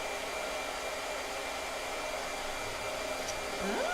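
A hair blow dryer runs steadily at close range, a constant even whoosh with a faint whine that stays level throughout, with no speech over it.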